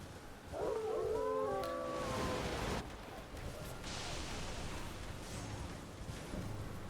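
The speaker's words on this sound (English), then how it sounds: "So I guess the wolf howl isn't actually tied to the wolves." A wolf howls in a video game, with a few rising and falling tonal wails near the start over a steady ambient wash, followed by fainter lingering tones.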